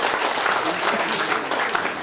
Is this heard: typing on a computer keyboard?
no